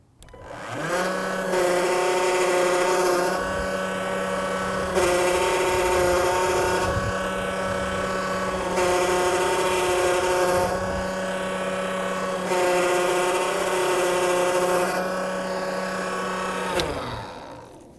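A lawn scarifier fitted with a scarify cartridge runs steadily over grass, a loud continuous motor drone with a strong low hum and rhythmic swells, sustained for most of the stretch before cutting off near the end.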